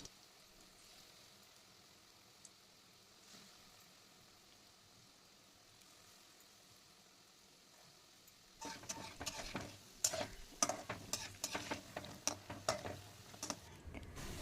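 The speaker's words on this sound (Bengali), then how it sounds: "আস্তে আস্তে এপিট ওপিট করে বড়াগুলো ভেজে নেব।" Lentil fritters frying in oil, faint and nearly silent at first, then a sudden louder stretch of crackling sizzle with sharp pops and spatters near the end, close by and with no voices.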